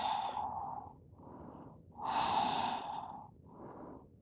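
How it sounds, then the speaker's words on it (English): Slow, deep breathing during a yoga pose: close, audible inhales and exhales alternating in a steady rhythm, with one fuller, breathier exhale near the middle. "And breathe."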